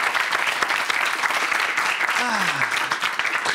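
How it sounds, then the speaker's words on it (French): Studio audience applause for a guest musician on a French talk show, a steady, fairly loud crackle of many hands clapping throughout, with voices murmuring underneath. "À l'occasion de la sortie de son album, on peut l'applaudir."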